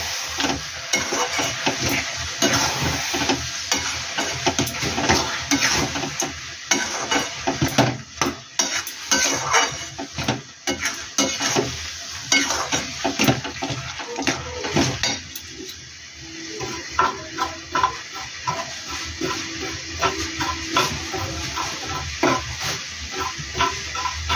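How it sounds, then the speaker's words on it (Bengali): Sour jujube (kul) pickle cooking in a pan, stirred without pause: a steady run of scraping, clinking spoon strokes over a soft simmering sizzle, close and fairly loud, with no talking. "এটা নাড়তে থাকতে হবে"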